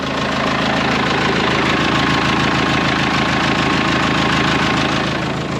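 An old 6410 tractor engine idles close by, a loud, steady diesel rumble with a fast, even knocking pulse that runs unbroken throughout, with no voices over it.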